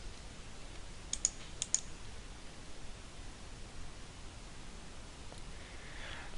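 Two quick, faint computer-mouse clicks land close together on a CRM software's administration button, then only a low, steady hiss remains.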